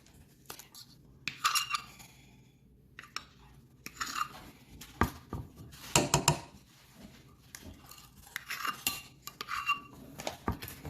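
A metal measuring spoon scraping and clinking against a bowl and container while baking powder is measured for biscuits, giving irregular close clatters and taps with quieter gaps between them.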